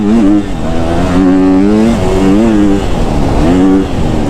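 A KTM 250 SXF dirt bike engine revs hard and close, its pitch climbing and falling in repeated surges as the throttle is worked, loud throughout.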